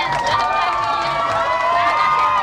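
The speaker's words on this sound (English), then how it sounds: "Let's have a huge round of applause. Keep clapping, everyone!" A loud, close crowd cheers, shouts and claps for celebrity guests at a store launch, a continuous dense roar with excited voices layered on top.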